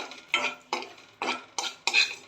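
Dried coconut is dry-roasted in a pan and stirred with a metal utensil, making five distinct scraping, rattling strokes in an uneven rhythm, close and fairly loud.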